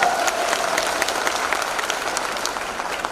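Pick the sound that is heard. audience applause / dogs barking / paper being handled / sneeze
audience applause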